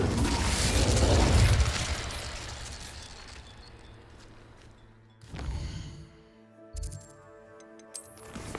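Incendio fire spell cast in Hogwarts Legacy: a loud burst of rushing flame and rumble that fades over a few seconds, followed by softer game thuds and a few short pops.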